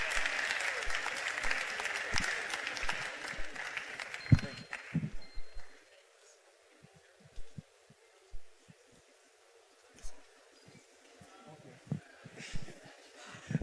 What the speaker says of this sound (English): A round of applause for Data Nova.